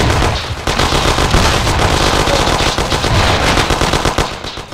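Intense shootout in the Mafia: City of Lost Heaven game, dense rapid machine-gun bursts and overlapping gunshots firing continuously and loudly throughout.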